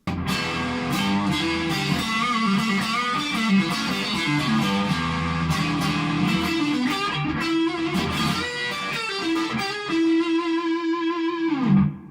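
Fuzzy, heavily distorted electric guitar chords played continuously through a Marshall MG amp in a BluesBreaker cabinet, gain past halfway, thick and buzzing, ending with a sustained note.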